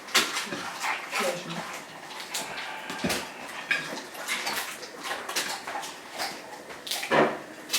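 Dogs on a rural property in the Creuse, France, whimper and give occasional short barks, moderately close, mixed with clattering household noises and some talking.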